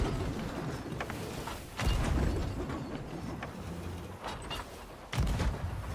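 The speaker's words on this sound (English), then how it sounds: "I'm getting the shots. I gotta dial up my cannons here." Ship cannons firing in the pirate video game Sea of Thieves, heavy booming blasts at intervals over a dense, noisy battle backdrop of rumbling and clatter.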